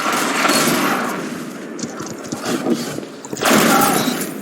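A slug shotgun in a video game fires in heavy booming bursts, loud and close, with a short gap of quieter clatter between blasts and another burst near the end.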